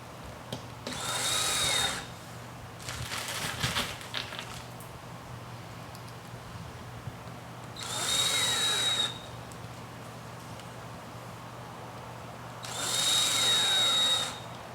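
A power drill drives steel screws through woven hurricane fabric in three separate loud bursts, each about one to two seconds long, with a faint clattery handling sound between them.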